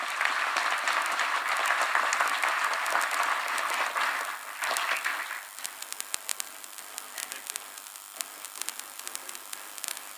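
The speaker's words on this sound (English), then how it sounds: "Let us give them a round of applause." Audience at a national defence university graduation ceremony in Kenya applauds loudly and densely, then the clapping thins into scattered, sparse claps toward the end.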